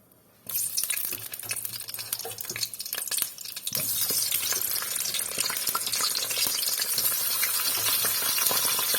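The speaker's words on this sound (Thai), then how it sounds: "พอน้ำมันร้อนได้ที่แล้วนะคะ เราก็ จะใส่มะเขือลงไปทอดเลยค่ะ" Eggplant frying in hot oil over medium heat for a stir-fried eggplant and tofu dish, a loud steady sizzle that starts abruptly and swells louder partway through, with occasional clinks of stirring.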